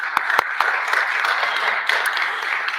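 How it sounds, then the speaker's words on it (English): A round of applause from the audience at an annual awards gala, steady crowd clapping with a few sharper claps, moderately distant. "Let's give them all a big round of applause."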